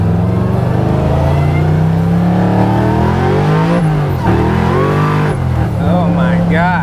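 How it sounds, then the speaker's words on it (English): A supercharged Wegner LSX 427 V8 in a 1967 Camaro restomod pulls hard at three-quarter throttle into second gear, a loud rising roar that dips at the shift then climbs again, heard from inside the car with a voice over it. "This thing will wag the tail a little bit just grabbing second gear, and that's like 3/4 throttle."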